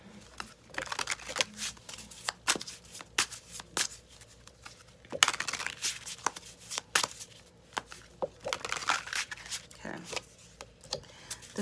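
A tarot card deck is shuffled by hand in repeated bursts of crisp riffling and flicking, close and fairly loud, with short pauses between rounds.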